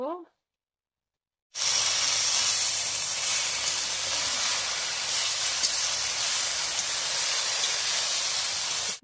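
Potato and gira greens sautéing over a low flame in a pan give off a steady, close broadband sizzle. It starts abruptly after a short quiet moment and then holds an even level to the end.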